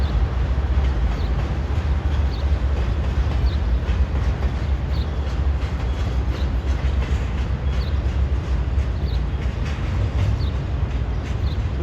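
A Norfolk Southern westbound train rumbles past close by at a railroad crossing in Harrisburg, loud and steady the whole time, with faint rhythmic clacking from the wheels over the tracks.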